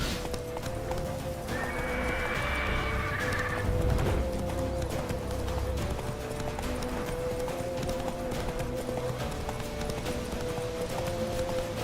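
A horse gallops in The Witcher 3, its hoofbeats pounding in a fast steady rhythm over game ambience, with a short neigh early on; the sound stays moderate and even.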